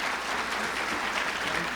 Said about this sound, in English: One big applause for them again, please.